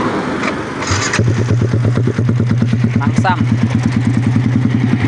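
MX Siger Black dirt bike with a 57 block, engine starting and revving after a crash, loud close throbbing idle with rising blips, someone speaking briefly over it.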